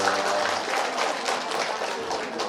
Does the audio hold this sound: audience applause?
yes